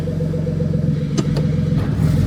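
A BMW F80 M3 fitted with an N54 engine accelerates with a loud, close, steady engine drone, broken by a couple of brief sharp pops or shift clicks late in the run.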